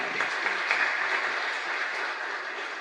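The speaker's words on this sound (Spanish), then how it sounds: "Y un fuerte aplauso para el Señor." A large church congregation applauds continuously, dense and steady clapping at even loudness throughout, with faint voices mixed in.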